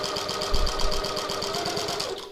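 A sewing machine stitches a pocket tote with a rapid, even mechanical chatter of needle strokes, running steadily close by without voices.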